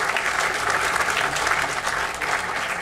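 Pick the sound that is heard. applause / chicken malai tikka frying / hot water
applause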